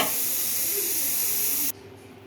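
A pressure cooker of drumstick dal, with the stove switched off, lets out a loud, steady hiss of escaping steam that cuts off abruptly and leaves only a quiet room.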